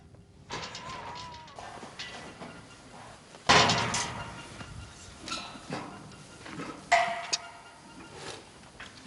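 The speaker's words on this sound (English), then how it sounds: "He uses a cage with a special door that closes around the animal's neck" A farm cage with a special door closes around an animal's neck, giving two sharp metallic clanks a few seconds apart over quieter shuffling and rattling.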